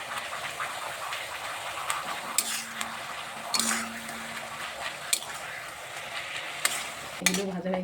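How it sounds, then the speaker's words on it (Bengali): Papad crisps deep-frying a few at a time in a pan of oil, giving a continuous near sizzle broken by several sharp clinks and scrapes of a metal spoon against the pan. "দু তিনটে অল্প অল্প করে ভেজে নিচ্ছি।"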